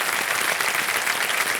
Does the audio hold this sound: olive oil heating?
no